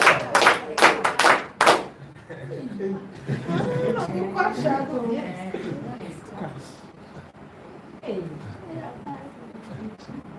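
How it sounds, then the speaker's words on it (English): A gospel class gives a brief round of applause, about six sharp, loud claps over the first two seconds, followed by people talking and chuckling. "Give Rapa a round of applause."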